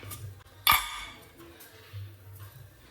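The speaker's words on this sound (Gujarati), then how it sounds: "ખાંડ નાખી દઈશું." A metal spoon clinks once sharply against a cup while sugar is stirred into homemade coffee, followed by faint scraping and low background hum.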